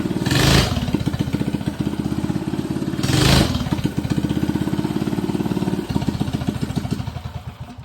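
A small minibike engine with a tuned flatslide carburetor runs with a loud, rapid, popping putter that rises in two sharp revs and then settles back to a steady, close idle.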